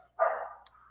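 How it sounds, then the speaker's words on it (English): A pet dog gives a single short, sharp bark followed by the start of another, close and fairly loud in an indoor room. "Sorry for my dog, guys."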